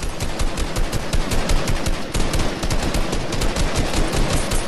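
Rapid automatic gunfire in a shooter video game, a dense, steady stream of loud shots running the whole length with no pause and no talk over it.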